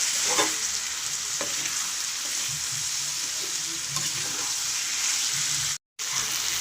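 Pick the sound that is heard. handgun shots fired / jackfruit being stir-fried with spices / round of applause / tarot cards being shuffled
jackfruit being stir-fried with spices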